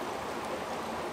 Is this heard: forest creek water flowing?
yes